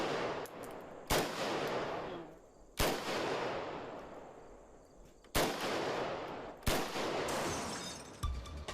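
A Kalashnikov assault rifle fires in several loud close blasts, each shot followed by a long rolling echo that decays over a second or more, spaced irregularly across the stretch.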